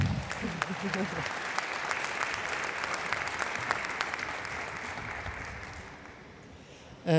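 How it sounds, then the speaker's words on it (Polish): A large audience at an award ceremony breaks into sustained applause, steady dense clapping lasting several seconds and fading slightly near the end, with a brief voice at the start. "Proszę też o oklaski."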